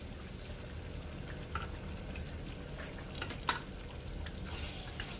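Ginger garlic paste fries in a pan for Mumbai-style tawa pulao, a quiet, continuous sizzle broken by a few soft stirring scrapes and one sharp clink.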